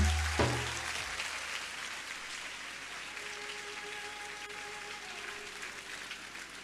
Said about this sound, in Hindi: बच्चों एक बार जोरदार तालियां बजा दो, जोरदार।